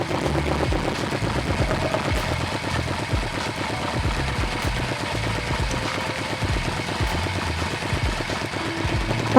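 A Yamaha Vmax1200 motorcycle idles with a 32mm iron pipe fitted inside its modified 35mm-end muffler, giving a close, steady low engine rumble with regular pulsing firing beats and no talk.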